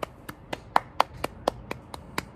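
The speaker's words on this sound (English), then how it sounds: "Congrats, Jordan. Round of applause." About ten hand claps in a steady, slightly uneven rhythm, sharp and close, a single person clapping alone with no talk.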